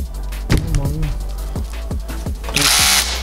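An Interskol Multimax rotary hammer drills in bursts, with several short spin-ups and stops followed by a loud sustained grinding stretch near the end, close up and without talk.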